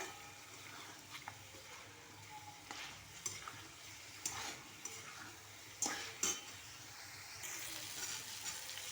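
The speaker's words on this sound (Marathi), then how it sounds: "आता हे यामध्ये चांगलं मसाले चिकनमध्ये परतून घेऊया" Chicken sautéing in oil with onion masala, chilli powder and coriander powder for a Marathi-style chicken rassa, a soft steady sizzle broken by scattered scrapes and clinks of a spoon stirring in the pan.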